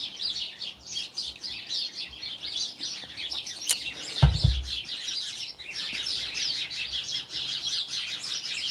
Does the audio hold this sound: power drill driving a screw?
no